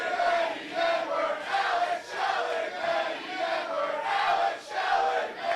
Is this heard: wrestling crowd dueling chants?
yes